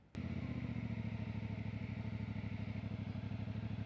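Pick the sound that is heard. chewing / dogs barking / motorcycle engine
motorcycle engine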